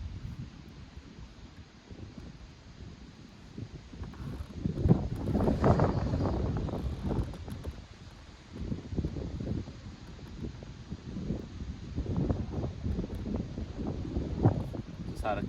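Wind gusts across a lake, buffeting the microphone in rising and falling rumbles with swells of rustling, loud and close, while a person speaks at times.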